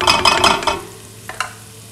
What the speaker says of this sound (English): green chilies are adding their flavor to the oil. They're cooking a little bit.